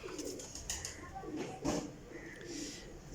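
Soft, repeated cooing of Sialkoti chapdar pigeons close by, a few low murmuring calls with faint background noise.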